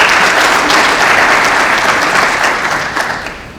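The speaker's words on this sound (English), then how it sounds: "Let's give them a round of applause." A school audience claps steadily for the assistant principals at a high school athletics signing day, dense and close applause that holds for a few seconds before thinning out toward the end.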